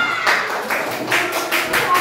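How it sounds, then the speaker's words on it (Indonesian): Schoolchildren in an elementary classroom clap in a quick rhythmic pattern for a classmate's group, with bursts of claps repeating at a steady beat, fairly loud and close, with some voices underneath. "Tepuk tangan buat kelompoknya Hasan."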